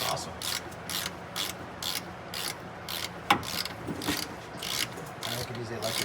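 A hand ratchet wrench clicks in quick, even bursts while turning a fastener during service work on an MCI bus, close and fairly quiet with a few pauses between strokes.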